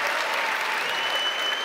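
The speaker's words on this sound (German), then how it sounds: "Einen kräftigen Applaus." Strong, dense applause from a comedy show audience at a lifeguard championship event, steady and loud for its brief length.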